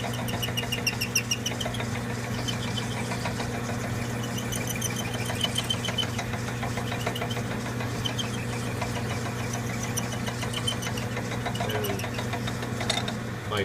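A steady mechanical grinding hum with rapid rattling and knocking, like a die cutting through metal, continuous and close.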